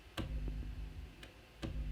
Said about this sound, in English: On the first trick, I have like a lo-fi crackle sound that sounds like